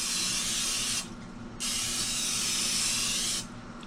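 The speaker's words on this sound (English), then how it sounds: "We're going to spray our pan." Two long hissing bursts of cooking oil spray onto a pan, close and steady, separated by a brief pause with a low hum underneath.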